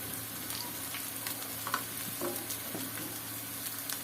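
Lentil fritters sizzle and crackle in hot oil in a pan, a soft, continuous frying hiss with a few small clinks and scrapes as they are stirred.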